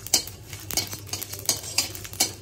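Whole spices like coriander, cumin, bay leaf, cinnamon, dried chili and clove are dry-roasted in a pan, giving soft, repeated scraping and rattling taps as they are stirred close by, with no talk.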